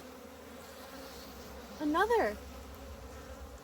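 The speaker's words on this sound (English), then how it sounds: "Busy bees." Bees around a dune buggy where a hive was removed, buzzing in a short swelling burst over faint background hum, with a brief spoken word nearby.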